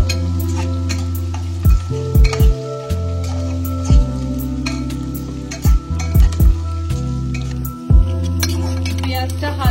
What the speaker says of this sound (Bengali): আমি এর মধ্যে দিয়ে দিলাম 500 মতন পেঁয়াজ কুচি, দিয়ে এটা আমি হালকা ফ্রাই করব।